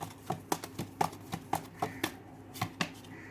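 Tarot cards are drawn and handled from a deck in a quiet indoor setting, giving a string of soft, close, papery flicks and taps in an uneven rhythm.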